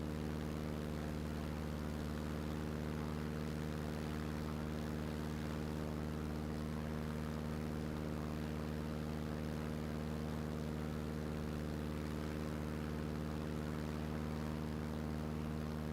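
T-6 Texan propeller trainer aircraft in Microsoft Flight Simulator 2024, a steady, droning engine hum with strong low harmonics, constant and unchanging throughout, fairly quiet, with no other sounds.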